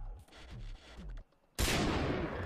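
Gunfire in the Far Cry 3 video game: after a stretch of voiced game audio and a short lull, a loud burst of shots erupts and rolls on densely to the end, close and dominant.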